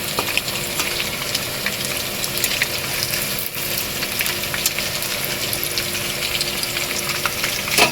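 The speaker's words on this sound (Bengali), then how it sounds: "লাল লাল করে ভেজে নেবো মাংসগুলোকে" Chicken pieces fry in a pan with a steady, dense sizzle and crackle that fills the scene at moderate loudness, with scattered pops and no voices.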